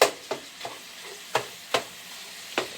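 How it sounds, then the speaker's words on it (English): Meat sizzles steadily in a pan for a casserole, with a soft frying hiss broken by several sharp scraping stirs spaced irregularly and close to the ear. "Okay, so I'm going to let this here go ahead on and fry up some more"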